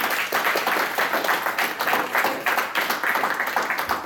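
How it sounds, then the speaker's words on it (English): Audience at an anime convention game show, PortConMaine 2019, breaks into a sustained round of applause: dense, steady clapping from many hands filling the whole stretch at even loudness. "give your first round of applause,"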